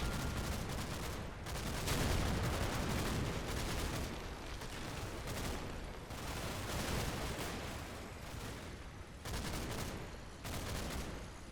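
Sustained volleys of gunfire and artillery from enemy troops in the Combat Mission: Battle for Normandy war game, dense overlapping bursts and shots rolling on loudly throughout with no talk.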